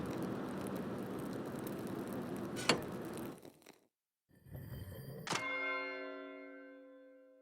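A bell rings in the video game Pentiment, one low struck tone after a rumbling bed, then a clear single strike with a long, fading ring.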